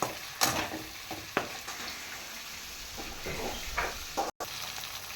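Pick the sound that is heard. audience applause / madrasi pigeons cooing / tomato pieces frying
tomato pieces frying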